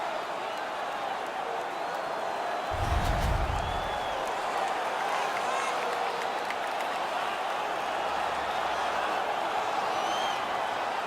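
Home crowd noise at an NHL 18 hockey game, a steady, fairly faint roar of cheering and clapping with a brief low thump near the start of the swell.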